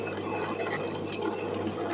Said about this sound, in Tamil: இதில் வந்து கொஞ்சமாக ஊற்றிக்கலாம்.